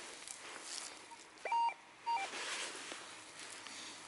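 Two short electronic beeps from a RUTUS Alter metal detector sound a moment apart over a quiet outdoor hiss at an old school sports ground, with faint rustling in the background.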